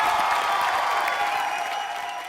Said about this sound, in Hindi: एक बार दिव्यांग के लिए जोरदार तालियां हो जाएं